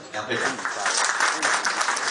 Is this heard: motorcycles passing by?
no